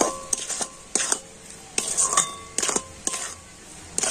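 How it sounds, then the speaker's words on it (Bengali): Ripe palm fruit mixture stirred in a pan with a metal utensil, sharp scraping clinks coming in irregular bursts against the pan, nearby and moderately loud. "নাড়াচাড়া করে আমি একটু ফুটিয়ে নেব।"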